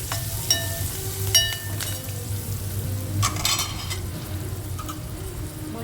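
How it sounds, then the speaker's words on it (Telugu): Moringa drumsticks with turmeric fry in a little oil for sambar, giving a steady close sizzle with scattered clinks and scrapes of stirring, no talk. "కొంచెము నూనెలో ఫ్రై కావాలి."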